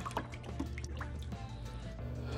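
A gallon of water is stirred with one to two capfuls of additive in a container, giving soft, scattered drips and sloshing splashes at close range, fairly quiet and with no talk.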